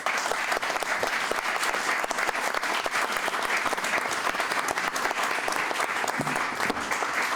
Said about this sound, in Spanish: y este aplauso, Peña, es para vos.